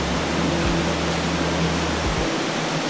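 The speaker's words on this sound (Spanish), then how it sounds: "bienvenido aquí a la Cascada de la Gloria" La Gloria waterfall in Panamá Oeste roars as a dense, unbroken wash of falling water, loud and close, with a low hum underneath and no talk.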